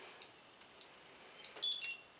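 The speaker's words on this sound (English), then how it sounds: "You heard that sound. That high pitched, that multiple beeps," A few short, high-pitched electronic beeps from an RS507 barcode scanner, brief and close, with a quick cluster near the end over a quiet background.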